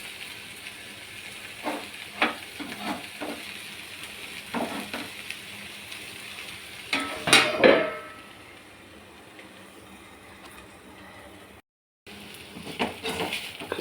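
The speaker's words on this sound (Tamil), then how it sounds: "வெண்டைக்காய் வறுத்துருச்சு," Okra (vendakkai) is stir-fried in a pan for South Indian varuval, giving a crackling sizzle with intermittent spoon scrapes and a louder clatter midway, then a brief silence before frying resumes.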